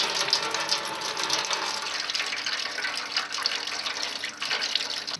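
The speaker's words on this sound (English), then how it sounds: "Water will come in." Water splashes and trickles steadily from a Volkswagen Passat windscreen washer reservoir into a tray below, a close, continuous hissing pour with no speech.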